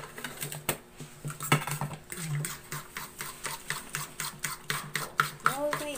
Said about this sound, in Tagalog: Halu-haluin natin ng mabuti